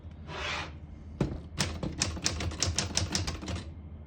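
Typing on a 1938 Corona Standard vintage portable typewriter: a quick run of crisp, close mechanical key strikes in a steady rhythm, preceded by a softer whirring slide and a single louder clack.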